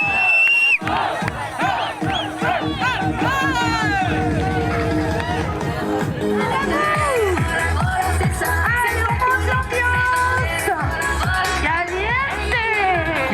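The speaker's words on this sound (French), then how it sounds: "Une foule de givrés bien échauffés au rythme d'une ambiance joyeuse et musicale" A festive crowd at a New Year sea bathing event cheers and shouts loudly and continuously, voices rising in excited whoops close by, amid a lively, musical atmosphere.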